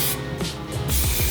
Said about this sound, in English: Just lightly spray it